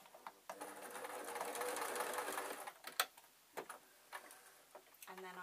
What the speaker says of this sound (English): And then I'm sewing up the side